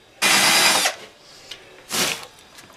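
Power drill boring a recess into a wooden board for a coin to sit flush, a loud whining burst of nearly a second followed by a shorter second burst, close up with no talk.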